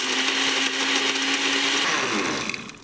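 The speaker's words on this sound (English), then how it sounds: "Here we go, time to blend." A countertop blender runs on high speed blending a protein shake, a loud steady whirring motor drone with a sustained low hum that holds throughout and eases slightly at the end, with no talking.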